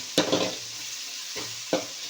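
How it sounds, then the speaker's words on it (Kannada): Masala is stirred for rice bath in a pan, giving a few scraping strokes against the pan under a faint steady sizzle, close and brief with pauses between strokes. "ಮಸಾಲವನ್ನು ಹಾಕ್ಬಿಟ್ಟು ಚೆನ್ನಾಗಿ ತಿರೋಬೇಕು"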